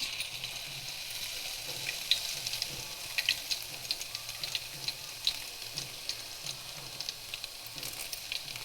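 Mustard seeds, cumin and garlic sizzle in hot oil for an amti tempering, a steady close hiss with scattered faint pops and crackles throughout, no talking.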